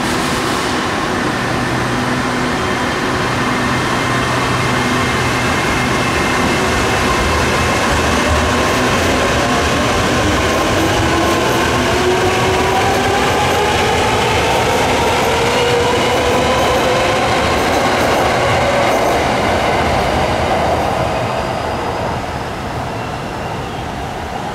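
A QSY train runs fast along the rails on its way back from testing, a loud steady roar with rolling wheel noise and rising and falling tones that fades slightly near the end.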